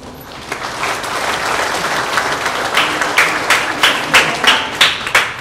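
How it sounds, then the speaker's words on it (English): A graduation audience breaks into applause, a loud sustained crowd clapping that grows into a rhythmic, synchronized beat of unison claps toward the end. "Let's give them a round of applause for making today possible."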